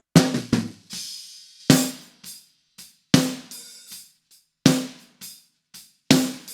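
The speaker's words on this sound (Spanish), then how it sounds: "Si ponemos juntos los dos micrófonos del redoblante más el sample," Snare drum with two microphones blended with a snare sample, struck in a steady pattern: sharp, loud backbeat cracks with quick decays, separated by softer, lighter ghost hits.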